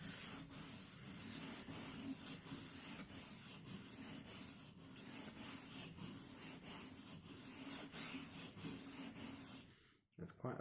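Long knife being sharpened on its primary bevel, rhythmic rasping strokes repeating steadily and fairly close, ending with a brief knock near the end.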